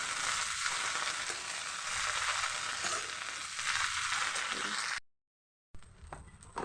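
Large-cut water spinach greens frying in a pan, a loud continuous close sizzle with stirring scrapes that cuts out briefly near the end, then resumes more faintly.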